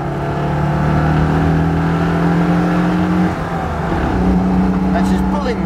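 Citroën 2CV on a drive, its small engine pulling steadily with a continuous droning hum that shifts pitch midway as it accelerates, close and loud inside the car.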